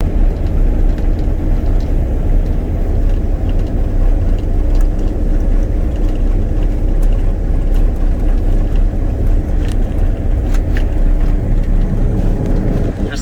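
A John Deere tractor engine drones steadily and loudly through the whole stretch, a constant low rumble mixed with wind buffeting the microphone during a barley harvest.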